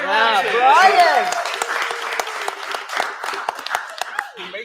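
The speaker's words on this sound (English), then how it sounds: "another round of applause to a man behind the scenes" A live podcast audience applauds, with steady clapping that swells and then thins out, while voices talk and laugh over the opening second.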